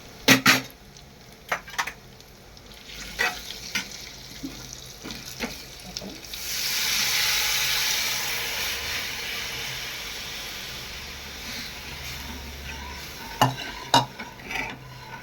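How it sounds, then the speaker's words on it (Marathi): A utensil scrapes and clinks against a pan in repeated stirring strokes while kadhi, a yogurt curry with turmeric, is heated, with a stretch of soft hissing in the middle. "कढी गरम होत नाही तोपर्यंत असं सारखं हलवत राहायची"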